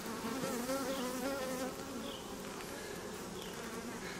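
Honeybees in an open hive during an inspection produce a steady, dense buzzing hum that holds throughout at close range, with no talking over it.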